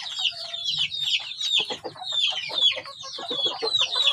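Several crossbred Indonesian village chickens (ayam kampung) cluck and squawk busily together at close range, a dense overlapping chatter of hen calls with no human voice.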